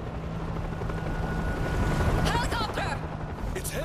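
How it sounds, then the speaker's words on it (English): Helicopter rotor in the video game World War Z chopping steadily overhead, a loud continuous thrum with brief shouted voices near the end. "Helicopter's landing across the river."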